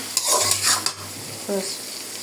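Onions fry in a pan while being stirred, a close burst of scraping and sizzling hiss with a brief metallic clink near the end, short and fairly loud.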